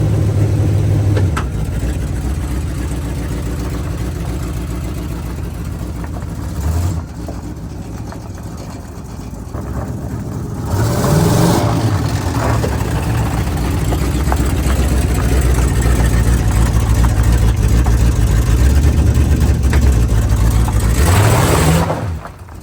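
A Chevy 283 V8 swapped into an Oldsmobile Cutlass runs through its new exhaust with a loud, deep idle, then revs up in a few throttle blips before settling and cutting off at the end.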